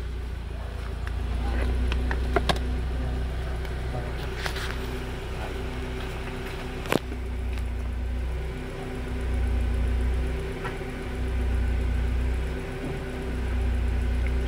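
A Honda Accord's engine idles steadily after being started, a low rumbling hum with a faint periodic surge, while someone talks over it and a few light clicks sound nearby.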